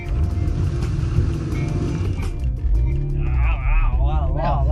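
A BMW M3 car engine pulls away with a loud low rumble that rises in pitch as it accelerates, close by, while people talk over it.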